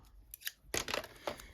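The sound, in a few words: scissors trimming excess paper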